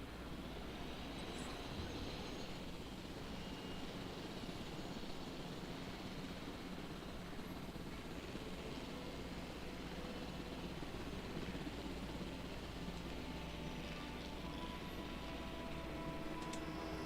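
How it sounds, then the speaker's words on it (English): A helicopter in the video game Jurassic World Evolution produces a constant, dense rotor and engine roar that fills the scene without a break. "I'm going to pilot the helicopter"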